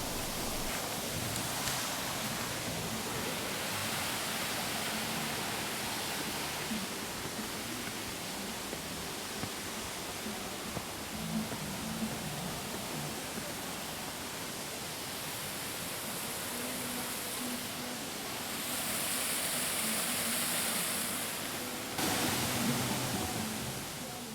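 Waterfall at a mini golf course pours in a continuous hiss of falling water, steady and moderately faint for the whole stretch, with no talk.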